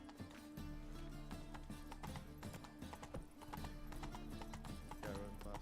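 A horse galloping in the video game The Witcher 3, with rhythmic clip-clop hoofbeats running steadily throughout, close and clear over a faint music bed.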